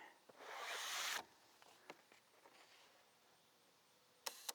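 Shutter cocked on an 8x10 large format field camera outdoors near a waterfall at Lake Katharine: a short rubbing slide followed by a few faint, quiet clicks and a couple of sharp ticks at the end.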